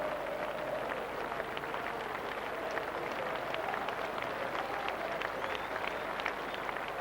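A large cricket crowd at Old Trafford in Manchester, during a 1998 England v South Africa Test, gives sustained applause around the ground, a steady dense wash of clapping that stays even throughout.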